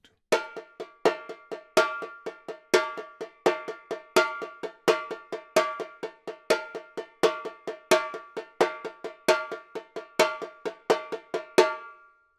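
A repinique plays a bloco afro pattern alone: sharp, bright strikes fall in a steady, repeating rhythm of accented hits and quick ghosted fills, close and clear.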